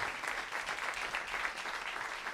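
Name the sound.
audience applause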